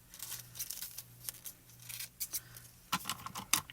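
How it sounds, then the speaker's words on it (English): Scissors snip and crinkle through foil packaging to trim off its corners during card making, a run of close, brisk cuts with rustling and a sharper burst of snips near the end. "Again, just trimming off the corners."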